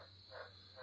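A frog croaking, two short rasping croaks in quick succession, faint and somewhat distant, over a steady background hum.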